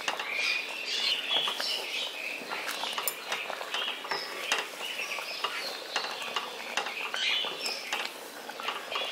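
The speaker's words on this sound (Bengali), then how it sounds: "সব কিছুকে একসাথে ভালো করে মিশিয়ে দিচ্ছি" Rice and milk firni is stirred in a pot, close, with a busy pattering of scrapes and light clicks from the spoon against the pot, steady and continuous.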